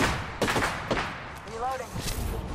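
Rapid gunfire in Apex Legends crackles in several close, loud bursts, interleaved with game sounds and a short in-game voice line.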